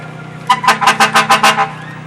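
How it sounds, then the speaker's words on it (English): A car horn honks in a quick run of about seven short, loud toots during a fall festival parade, close by over a steady low idle, with no voices. "that must be Butch Boraski honking his horn."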